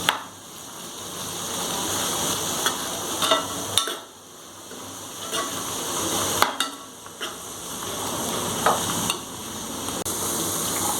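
Chicken fries with onions in a pan for curry, giving a steady sizzle broken by several bursts of stirring, scraping and utensil clatter against the pot.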